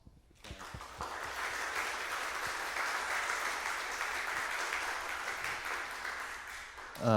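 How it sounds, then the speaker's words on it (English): An audience at a veterans' tribute concert claps warmly and steadily for the veterans present, a sustained round of applause that starts abruptly and fades slightly before a sound at the end. "Do you mind just giving them a round of applause?"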